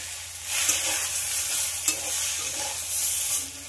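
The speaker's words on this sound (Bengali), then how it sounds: "আবার সব কিছু টমেটোর সঙ্গে খুব ভালো করে কষিয়ে নিতে হবে।" Tomatoes and spices frying in a pan for an eggplant and egg dish, a loud continuous sizzle with occasional spatula scrapes and light taps, close up and without voices.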